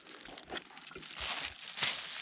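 Thin plastic bag crinkles and rustles up close as binoculars are unpacked from it, in a steady stream of crackling with a few sharper crunches.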